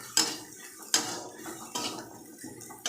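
Tomatoes are stirred in a cooking pan for an oil-free mourala fish curry. A spatula scrapes and knocks against the pan four times at a slow, even pace, with quiet gaps between the strokes.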